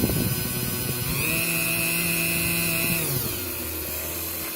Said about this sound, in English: As you can see, we're drilling underwater.